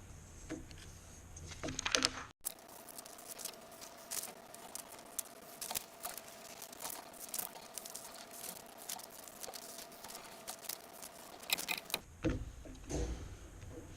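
Paper is cut with scissors for a folded paper tray, a quiet close run of crisp snips and rustles that starts after a short pause and continues steadily, with no talking.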